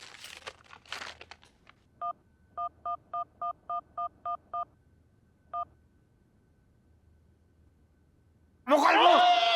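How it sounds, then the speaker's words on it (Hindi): A telephone number is dialed with a quick run of ten or so clear touch-tone beeps, then one more beep after a pause. The beeps are faint, with rustling before them and a loud voice starting at the end. "मैं अभी फोन करता हूँ।"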